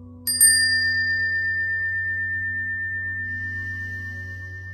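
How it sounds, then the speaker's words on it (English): A Bali bell, a gift, is struck once for sound therapy, with a bright metallic strike followed by a second quick tap. A long, pure ringing tone then sustains and slowly fades over a steady low hum. "so the bell is sound frequency and therapy"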